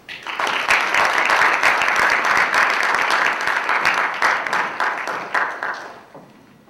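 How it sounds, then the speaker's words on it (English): Audience at a Model United Nations delegate orientation gives a warm round of applause welcoming the Secretary General, loud dense clapping that swells quickly, holds for several seconds, then tapers off into quiet. "Please welcome her with a warm round of applause"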